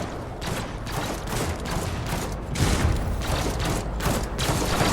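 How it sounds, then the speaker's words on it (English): Dense, continuous battle gunfire aboard a ship in Warhammer 40,000 Rogue Trader, shots traded between upper and lower decks as a rumbling barrage of overlapping cracks and booms, steady and moderately loud with no voices. "you see a lot of shooting from the upper decks to the lower decks"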